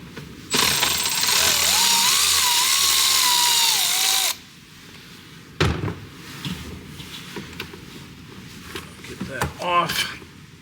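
Power driver with an 8 mm socket loosening clamps on a Banks intake on a 2022 Ford 6.7 diesel, one loud continuous whir lasting about four seconds up close, then tool clatter and handling noises with someone speaking.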